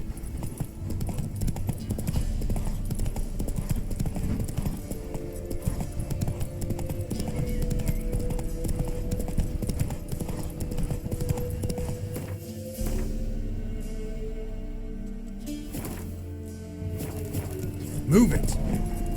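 Horse hooves clip-clop in a steady walking rhythm in The Witcher 3, close and continuous, with a rider's voice and game sounds layered over the hoofbeats.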